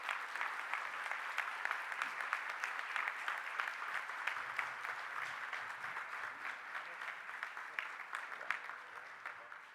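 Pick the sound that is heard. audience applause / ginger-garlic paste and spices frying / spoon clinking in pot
audience applause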